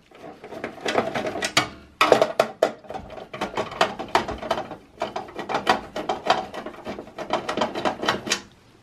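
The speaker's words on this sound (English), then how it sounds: "you just need a Phillips screwdriver. And there's one screw here in the top, one in the bottom, that you have to remove" A Phillips screwdriver backs screws out of a Dell Optiplex 745 computer case, giving close, repeated ratcheting clicks in quick bursts with brief pauses between.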